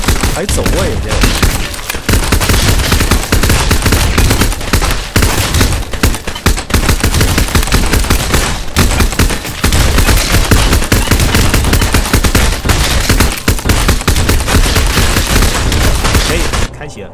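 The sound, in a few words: gunfire sound effects in zombie resort video game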